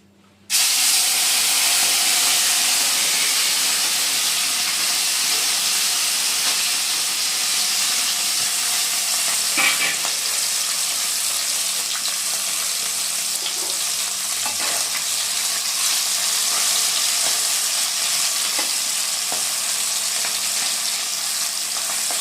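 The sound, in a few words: mola fish frying in hot oil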